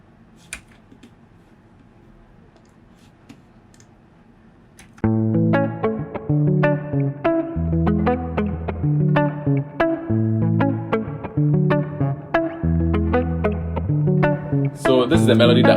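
A guitar melody played back in FL Studio, a bright plucked riff with chorus and distortion over a deep bass line, steady and loud after a few seconds of quiet room noise.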